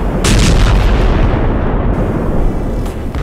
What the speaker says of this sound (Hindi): धमाके होते हैं।